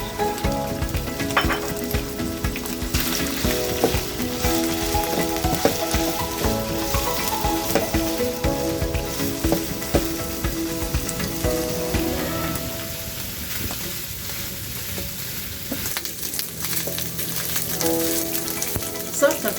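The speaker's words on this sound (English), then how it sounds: "Then now add your matumbo and fry for 1 minute." Matumbo tripe frying in vegetable oil in a pan, a loud continuous sizzle and crackle with occasional clinks of utensils, steady throughout.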